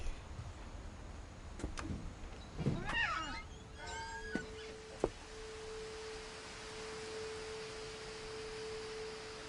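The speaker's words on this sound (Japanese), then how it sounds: "猫の声かわいい。" A cat meows a few times in the video game What Remains of Edith Finch, clear, short rising calls in a quiet scene, followed by a steady electronic tone.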